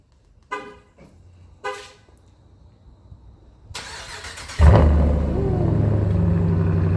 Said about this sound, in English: let's get the cold start.